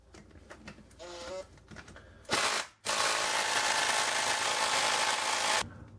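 An electric impact wrench strains against a caliper bolt on a Toyota pickup, giving a short close whirring rattle, a loud hammering burst, then a sustained harsh rattling impact run that cuts off abruptly.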